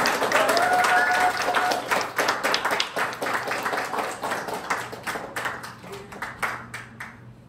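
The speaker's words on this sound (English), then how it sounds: "can you welcome him with a very loud clap? Loud clap." Audience at a church retreat sermon session breaking into loud applause, dense clapping close at first and then thinning and fading over several seconds, with a voice heard briefly early on.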